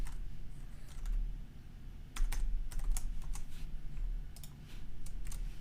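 Typing on a computer keyboard while coding Python with the Pandas library, quick irregular bursts of clicking keystrokes, fairly faint and close, with brief pauses between runs of keys.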